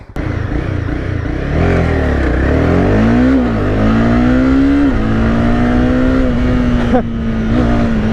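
A stock police car's engine revs steadily, a loud close drone that rises in pitch, dips, then climbs again and holds at a sustained high idle with small fluctuations, no voices over it.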